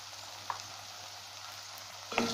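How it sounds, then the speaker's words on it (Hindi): Spices such as coriander powder are stirred into eggplant bharta frying in a pan, giving a continuous soft sizzle with a few light scraping knocks near the start and end, and no voices. "सारी चीज़ों को अच्छे से मिक्स कर लेंगे।"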